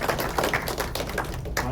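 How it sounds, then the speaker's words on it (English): A short burst of steady applause from a gathered team at a workplace celebration, close and continuous, with many hands clapping in a dense, even patter. "I think good round of applause for them."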